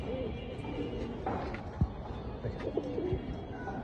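Pigeon of a blue-eyed fancy breed cooing a few soft, repeated low notes at a moderate distance, over steady background noise and faint murmuring.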